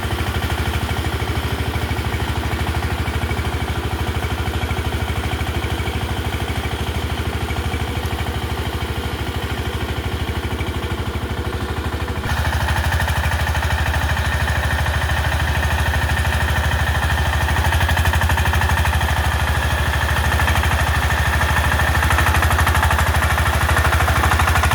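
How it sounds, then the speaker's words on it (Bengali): A rotavator power tiller churns through a field being tilled, its engine running steadily and loudly with a rough, continuous mechanical drone and no voices. "এখন আমাদের মাঠে এই পাওয়ার টিলারটি দিয়ে মূলত এখন চাষ"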